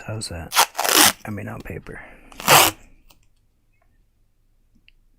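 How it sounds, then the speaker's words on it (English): Watercolor paper with a painting on its back has tape peeled from it in several loud, crackling bursts, the last and longest near the middle, between stretches of nearby talk before the sound fades to quiet. "Sorry for the tape noise."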